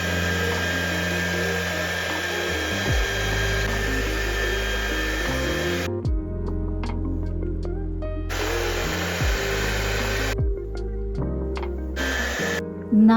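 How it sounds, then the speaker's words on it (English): A handheld hair dryer blows steadily on hair while it is sectioned and straightened, its loud whirring drone briefly cutting out and restarting several times, with occasional clicks and shifts in pitch. "section wise I'm just blow drying and straightening it into downwards"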